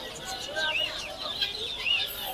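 Chickens and ducks at the Tongi poultry and bird market, giving faint scattered clucks and chirps over busy background murmur.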